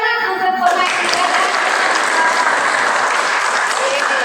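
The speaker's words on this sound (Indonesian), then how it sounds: "Tepuk tangan untuk pemain" An audience bursts into dense, loud applause for a player at a community simulation event in Tegalsari, the clapping rising abruptly after a short sung or spoken tone and continuing steadily to the end.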